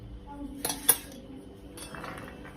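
A spoon clinks and scrapes against a pot while spices (Kashmiri chili, hot chili powder, garam masala) are mixed into Kathiyawadi undhiyu, with a few sharp metallic taps over a quiet kitchen background.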